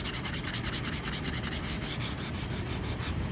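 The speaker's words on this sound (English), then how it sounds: "Just keep cross hatching that, rubbing against it." Sandpaper rubbed by hand across a Camaro body panel in cross-hatching strokes gives a steady, close, continuous rasping scrape with no pauses and no talking.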